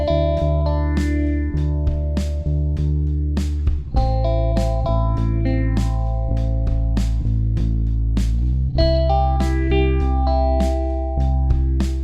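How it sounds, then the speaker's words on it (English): Guitar recorded through an MXL microphone with light compression, playing a steady stream of plucked notes and chords. It is full and continuous, with a slight effects-unit shimmer and no voices. "What you're hearing is this guitar, this MXL mic, and a little bit of compression."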